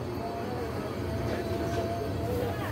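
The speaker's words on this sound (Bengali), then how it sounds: "আমাদের ট্রেন কিন্তু মেলান্দো বাজার ছেড়ে দিয়েছে" The Tista Express pulls out of Melandoh Bazar station, a steady low rumble of the train moving, with continuous broadband noise throughout and no clear speech.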